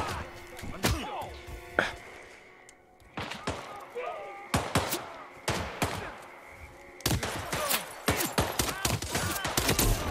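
Gunfire in the Hitman VR game, bursts of sharp close shots fired in rapid clusters with short gaps between them, mixed with game sounds and occasional talk.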